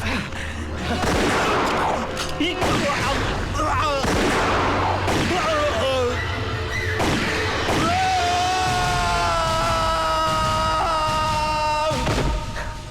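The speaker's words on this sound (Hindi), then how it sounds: "ऑफिसर सलमान खान को गोली चलाने का पूरा हक है।" Loud, rapid bursts of gunfire crack close by amid shouting, then give way to a sustained, wavering tone over continuing noise.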